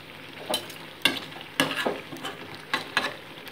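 Fish and eggplant curry simmering in a pan with coriander leaves added on top, a low bubbling hiss under several distinct scrapes and knocks of a spoon against the pan, close by, without speech.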